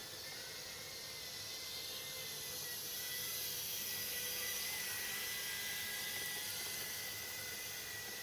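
A small Eachine E011 drone flies with its tiny motors giving a continuous high whine and hiss that swells slightly in the middle before easing back, steady and fairly close.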